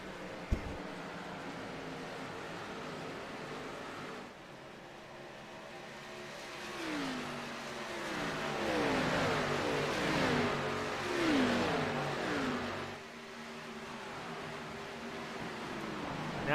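Several race car engines from an ARCA stock car race at Chicagoland Speedway in the iRacing video game, droning and rising in pitch together in sweeping waves, building louder through the middle before fading back to a steady hum.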